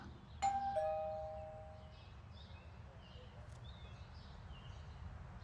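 A two-tone ding-dong doorbell rings once in the video game Beyond: Two Souls, clear and moderately loud, with a lingering chime over quiet ambient background.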